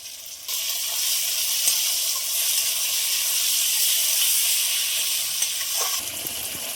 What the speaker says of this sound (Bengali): এবার দিয়ে দেবো থেতো করা রসুন আর কেটে রাখা কাঁচা লঙ্কা